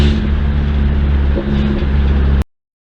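A Nissan Stanza set up as a four-wheel-drive overland build drives along with its new, fairly loud exhaust, a steady close engine drone that briefly dips before cutting off abruptly near the end.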